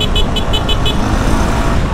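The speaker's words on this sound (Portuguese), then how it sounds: "Tá do lado desse cara buzinando aqui" Rapid, repeated car horn toots pulse about five times over loud road and engine noise heard from a Honda Sahara 300 motorcycle, then the traffic roar continues alone.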